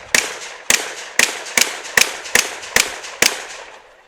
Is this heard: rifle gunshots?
yes